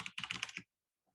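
Close, brisk typing on a computer keyboard, a quick burst of clustered key clicks lasting about half a second, then near silence with one faint tap.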